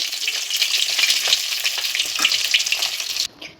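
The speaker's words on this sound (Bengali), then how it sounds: "এভাবে করে বাকি সবগুলি মাছ আমি ভেজে নিচ্ছি" Fish frying in hot oil in a pan, a loud continuous close-up sizzle and spatter that cuts off abruptly near the end.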